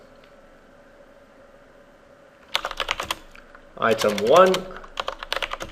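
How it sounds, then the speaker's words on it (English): Computer keyboard typing notes in a drawing, with quick bursts of close key clicks after a quiet hum, paused while someone speaks briefly, then resuming. "I will type in some words just by means of example."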